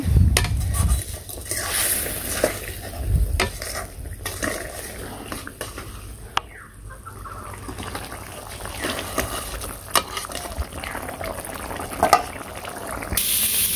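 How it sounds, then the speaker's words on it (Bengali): A pan of village-style curry with a pinch of sugar and cumin stirred on the stove, giving scraping, clinking utensil-on-metal sounds with a soft sizzle underneath, steady and close with sharper knocks at intervals. "তো এর সাথে সামান্য একটু চিনি আর জিরা দিয়ে নাড়া দিয়ে দিই"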